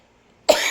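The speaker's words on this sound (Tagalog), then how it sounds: "medyo lambot-lambot na ngayong aking ubo" A single sharp cough bursts out after near silence, close and fairly loud, with a short trailing breathy tail and no talking.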